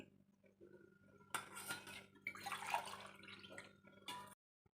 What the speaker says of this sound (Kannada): ಇದರಲ್ಲಿ ನಾನು ಐದೂವರೆ ಗ್ಲಾಸು ನೀರು ಹಾಕ್ಕೊಳ್ತೀನಿ